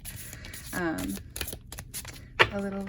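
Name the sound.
shuffling tarot cards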